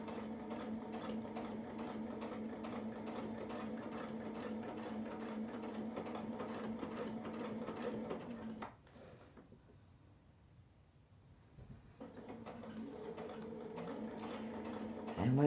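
Sewing machine free-motion quilting a mini fills brick pattern with a Westalee Design template, a steady close mechanical whir running continuously, pausing briefly for a few seconds near the end before resuming.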